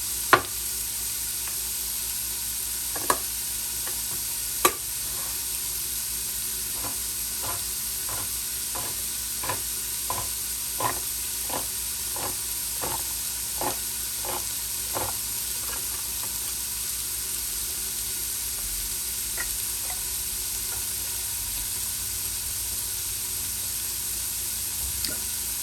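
Quinoa, beans and vegetables for chili cook in a pot with a soft, constant sizzle, punctuated by a series of light, regular clicks and taps of stirring, quiet and close with no talking.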